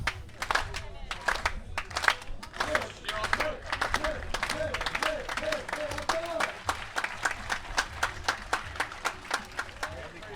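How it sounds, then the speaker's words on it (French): A spectator crowd at an international beach tennis open claps steadily, a dense run of sharp hand claps close and loud, keeping up for ten seconds with faint murmuring underneath. "Allez, Nikita Burnyakin sous les applaudissements du public."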